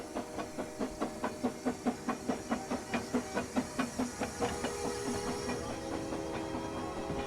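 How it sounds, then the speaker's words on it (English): Steam locomotive on a narrow-gauge railway rolling past with an up train, rhythmic chuffing exhaust beats at an even pace over a continuous hiss, close and fairly loud, with no talk. "Tom rolled past us with an up train"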